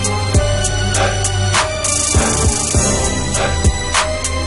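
Trap beat playing back from a sampled, chopped loop, with booming 808 bass, sharp snares and crisp hi-hats in a steady loud groove.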